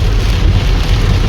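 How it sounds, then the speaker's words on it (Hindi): Heavy rain pouring on the main Najibabad–Haridwar road, a loud, dense, continuous hiss with a deep rumbling low end, no voices. "बहुत ही ज़्यादा तेज बारिश हो रही है।"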